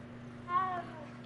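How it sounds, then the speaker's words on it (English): A cat in Hogwarts Legacy gives a single short, soft meow while being petted, faint and close over a low steady background hum. "Gotta pet the kitty cat."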